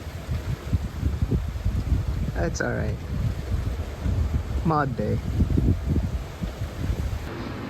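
Steady wind buffets the microphone throughout with a rumbling roar on a windy morning near a lake, while a person speaks briefly in the middle.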